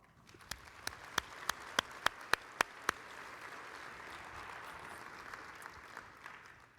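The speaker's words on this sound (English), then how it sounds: "Please celebrate them with a round of applause." Conference audience applause swells as a broad wash of many hands, with a run of sharp, evenly spaced claps standing out near the start before the crowd continues clapping steadily.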